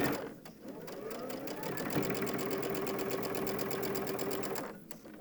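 A sewing machine stitches back and forth to reinforce the corners of a fabric organizer pad, a steady close mechanical whir that runs for several seconds with slight changes in speed and then stops.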